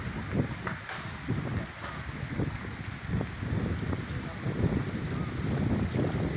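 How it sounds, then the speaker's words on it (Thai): Strong, cold wind gusts across an outdoor construction site where a new pavilion's posts are being set, producing steady rumbling buffets on the microphone. "วันนี้ลมแรงเนาะอากาศหนาวเย็นลง"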